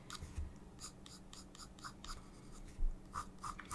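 A 2B Faber-Castell pencil sketching on sketchbook paper, close scratchy strokes in short irregular bursts with brief pauses between them, quiet and alone.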